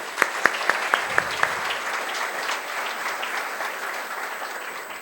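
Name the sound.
audience applause at a bridal fashion show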